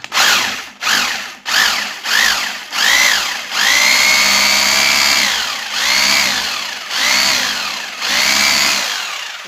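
Bosch rotary hammer drill run in hammer drilling mode, loud and close, revving up in several short bursts with rising whine, then holding a sustained rattling grind with a few dips in speed.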